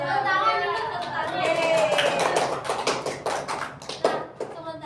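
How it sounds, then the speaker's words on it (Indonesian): Classroom applause from a group of students, a burst of scattered hand claps that rises and then breaks into separate sharp claps, with chatter underneath. "Tepuk tangan dulu, tepuk tangan."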